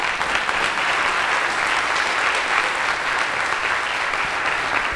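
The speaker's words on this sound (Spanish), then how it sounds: "¿Cuántos aplauden al Señor?" A congregation at a sermon applauding, a dense, steady wash of clapping that holds evenly from start to finish with no voice over it.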